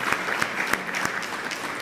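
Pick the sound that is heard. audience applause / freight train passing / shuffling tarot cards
audience applause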